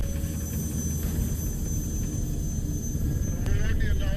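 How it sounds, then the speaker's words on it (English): A helicopter lifting off over a harbour with ships anchored offshore, its engine and rotors a loud, continuous drone that builds slightly toward the end. "we're taking to the sky with local chopper pilot"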